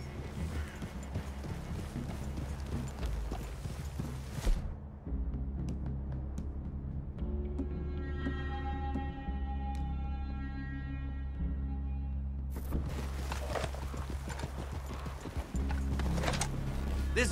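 Horses in Red Dead Redemption 2 walk along with steady clip-clopping hooves over ambient outdoor sound, pausing midway for a stretch of quiet game music before the hoofbeats resume.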